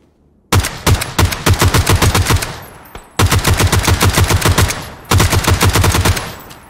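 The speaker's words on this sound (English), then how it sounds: "I'm just shooting at a guy in the sky." Rapid automatic gunfire from the PUBG video game, loud and close, fired in three long sustained bursts separated by short pauses, with no talk over it.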